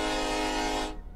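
A loud, sustained train horn from the Roblox game Jailbreak blares as one steady chord for about a second, then cuts off abruptly, leaving a faint low rumble.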